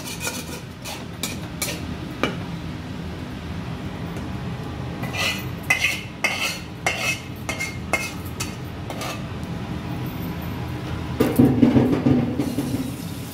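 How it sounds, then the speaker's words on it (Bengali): Vegetable khichuri stirred in a pot, with repeated metallic scrapes and clinks of a spoon against the pot, irregular and close, over a steady background hum, busier near the end. "এটা ভালো করে নাড়িয়ে নিলেই আমার খিচুড়ি তৈরি"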